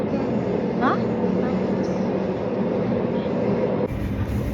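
Passengers ride a train in Perth: a steady, close rumble of carriage and track fills the whole ride, with voices talking over it.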